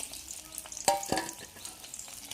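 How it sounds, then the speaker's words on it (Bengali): Fish sizzling in hot oil in a pan, a steady crackling hiss with a couple of sharper pops and spatters; no one speaks. "এখন দেখো মাছ ভাজা করছি"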